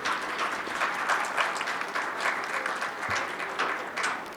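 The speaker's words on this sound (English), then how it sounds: "give them a well-deserved round of applause." Steady audience applause at a pharmaceutical industry conference panel, a dense wash of many hands clapping continuously and fairly loud, without talk.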